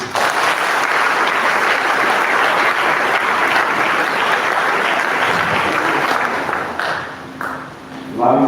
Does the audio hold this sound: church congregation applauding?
yes